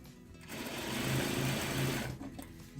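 A sewing machine stitches quilt patchwork blocks in one continuous, steady, fairly loud run of rapid mechanical stitching, with no voices.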